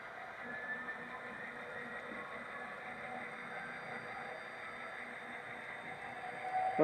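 An HO scale model locomotive of a 1973 Burlington Northern layout runs along the main line with a steady, faint mechanical hum and light rail rumble, continuous throughout with no talk.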